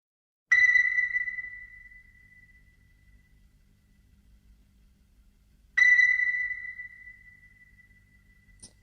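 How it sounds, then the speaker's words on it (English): Two sonar-like pings ring out in Pink Floyd's Echoes, performed live at Pompeii in 1971. Each bright, pure tone decays over a couple of seconds, about five seconds apart, with nothing else sounding. "Oh, that's the ping."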